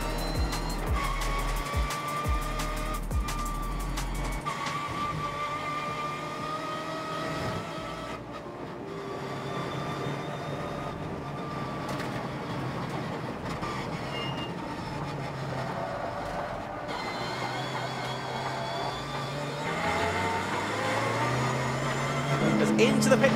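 Race cars at a club endurance race at Croft, heard as a steady roar of engines and passing cars through the chicane, with a commentator talking over it throughout.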